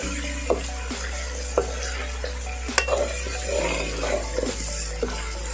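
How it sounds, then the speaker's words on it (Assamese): Cumin and turmeric are stirred in a pan for duck curry, a soft continuous sizzle broken by several sharp scrapes and taps of the spoon against the pan, with no talk. "জিৰা আৰু হালধি দি অলপ লাৰি দিছোঁ।"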